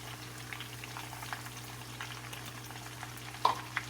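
Forest bitter gourd frying with roasted ground spices in a pan, a steady soft sizzle and bubbling with a low hum beneath and a few light stirring clicks near the end.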